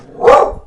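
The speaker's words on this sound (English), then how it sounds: "my dog's barking." A single loud, close dog bark, one short sharp burst indoors.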